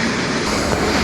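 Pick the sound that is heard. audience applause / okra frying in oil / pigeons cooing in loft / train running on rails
train running on rails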